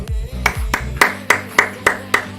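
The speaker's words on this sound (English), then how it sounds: "Sorry for clapping, Clint." A single person claps their hands, six or seven sharp, evenly spaced claps close by, following a few low thumps at the start.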